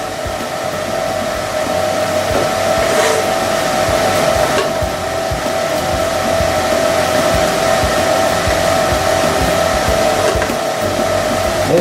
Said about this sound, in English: so you can see the actual TIG itself